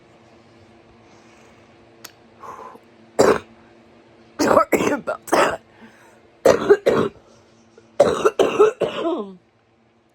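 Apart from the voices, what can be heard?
coughing and throat clearing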